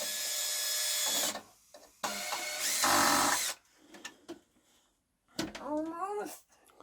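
Power screwdriver backing screws out of a DIY gecko stand built for Exo-Terra enclosures, two long loud whirring bursts followed by quieter clicking and a final short burst, with a person talking briefly between runs.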